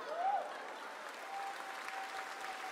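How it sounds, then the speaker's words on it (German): A theatre audience at a comedy show applauds in a dense, steady wash of clapping that holds its level from start to finish, with a faint voice briefly audible beneath. "Das hier ist dein Applaus."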